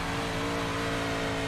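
A dirt late model race car engine held at full throttle roars loud and close with a steady, strained, buzzing drone that does not let up.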